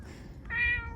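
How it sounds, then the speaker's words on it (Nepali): A cat meows once, a clear close call partway through, against steady low background noise in a quiet countryside village area of Seoul. "यहाँनिर बिरालो पनि रहेछ"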